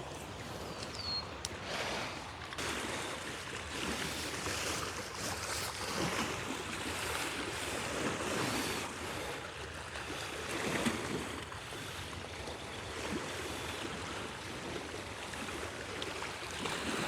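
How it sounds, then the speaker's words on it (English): Soft, continuous wash of Lake Ontario water lapping gently at the shore, a quiet steady swish with faint outdoor ambience and no voices. "So we have the water is very slowly washing over where these 2 flowers are in the ground."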